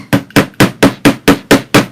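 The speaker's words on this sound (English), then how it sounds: "get your hammer out. Just pound them in a little bit" Eight evenly spaced hammer blows strike in a steady rhythm, loud and close, each a sharp thud with nothing else heard.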